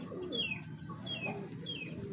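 Domestic pigeons of a large breeder strain call softly in a coop, several low coos and bird chirps overlapping at a moderate, steady level with no talk.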